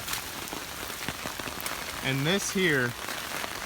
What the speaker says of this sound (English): it's not dealing with this rain very well because all the trees in here got cut down